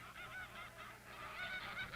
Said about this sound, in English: No one can prove that these geese are descendants of those sacred Aphrodite